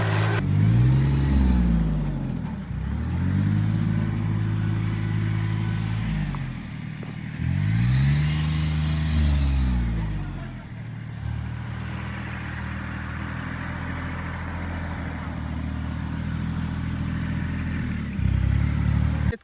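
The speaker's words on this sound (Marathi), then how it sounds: "आज त्यांचा ट्रॅक्टर आहे आपल्या भाड्यानं अठ्ठावीस एच पीचा ट्रॅक्टर आहे" A 28 HP tractor earthing up soil around sugarcane rows planted seven feet apart: a loud, close diesel engine that repeatedly revs up and settles in long rising and falling sweeps, with a steady idle between the surges.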